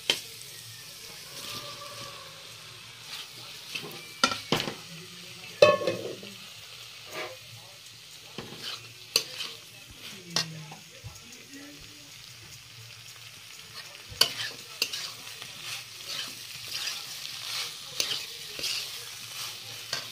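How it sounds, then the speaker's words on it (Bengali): Pointed gourd and potato stir-fried in a spiced masala pan, with soft sizzling and repeated sharp spatula scrapes and knocks at an uneven pace, and a voice speaking now and then. "এবার পটল আলু ভাজিটা দিয়ে দেব।"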